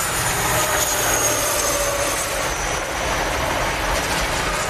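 Intercity 125 HST diesel train running loud and close, a continuous dense engine roar with a faint high whine over it and no voices.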